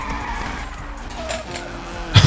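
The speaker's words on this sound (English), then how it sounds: "And if I need to do a handbrake turn" Tires skid and squeal through a handbrake turn in the racing game Need for Speed Unbound, played with a wheel. The squeal sits over a steady engine drone and ends in a sharp burst.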